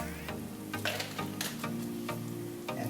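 Sichuan peppercorns sizzling in hot oil for a prawn stir fry, a close, quiet crackle with repeated bursts of sharp spitting and scraping stirs roughly every half second over a low steady hum.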